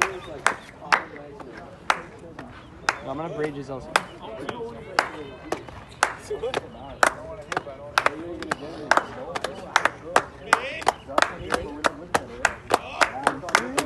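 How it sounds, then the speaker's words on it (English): Crisp hand claps in a baseball dugout, a steady run of loud claps at roughly half-second intervals, with players chattering and talking underneath. "Slow clap, slow clap, slow clap."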